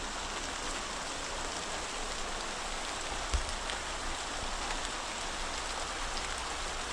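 Steady, even rain patters down on tree leaves and surfaces, a continuous soft hiss with no voices.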